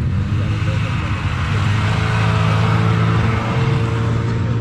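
Engine of a vintage snowmobile on a group ride in Merrill, New York, heard running loud and close as a steady low rumble throughout, with voices faintly mixed in.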